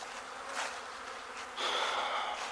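Honey bees fly around hives during a natural mating flight of queens, a close, soft insect buzz that thickens into a steadier drone partway through.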